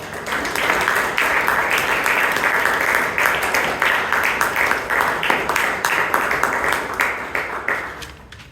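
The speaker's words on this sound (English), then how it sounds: "Let's give the President a big round of applause." Audience at a Toastmasters club meeting in Bangalore gives a sustained round of applause, many hands clapping steadily for several seconds and tapering off near the end.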